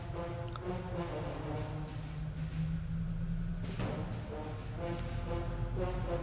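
Helicopter engine starting up in the Granny video game: a steady mechanical drone with a rising high whine and rhythmic rotor thumping, continuous and moderately loud, with no talking.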